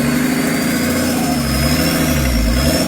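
A Peugeot 309 engine pulls away in first gear, holding a loud, close mechanical drone that rises steadily in pitch as the revs climb, with no talking over it.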